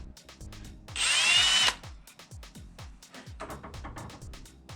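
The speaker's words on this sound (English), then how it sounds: "Just drilling into it and then smacking it on reverse and out she came." A power drill whirs in one loud, high-pitched burst lasting under a second as it drills into a metal part on a Nissan Silvia, set against a low background rumble.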